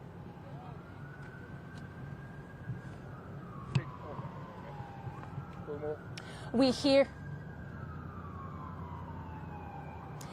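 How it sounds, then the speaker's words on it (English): An ambulance siren wails in the distance with rising and falling tones over steady street noise, coming around a corner; a person briefly speaks nearby. "I can hear those lights and sirens right now, and the ambulance is coming around the corner."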